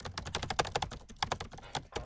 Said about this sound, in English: Can you hear that? That's me typing.